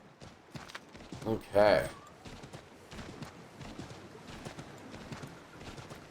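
Horse hooves clip-clopping in the video game Assassin's Creed 3, a quick burst of louder hoofbeats and landing thuds from a jump, then lighter steady steps, with a person talking briefly over it.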